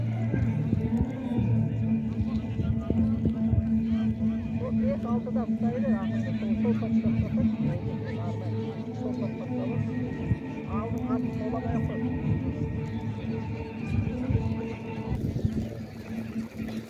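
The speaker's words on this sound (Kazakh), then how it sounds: "Аттар бірінші группта аяқтап келе жатыр." Racehorses galloping in a 25 km alaman long-distance horse race in Almaty region, Kazakhstan, with steady hoofbeat rumble and occasional neighs under continuous commentary and crowd chatter, fairly loud throughout.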